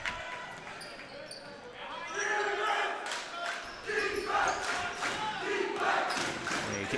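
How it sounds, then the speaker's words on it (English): Los Altos High School boys basketball fans cheering and shouting in a gym during a Wednesday night game against Mountain View, a loud swelling crowd roar with sneaker squeaks and ball bounces beneath. "And you can hear the Los Altos fans reacting here."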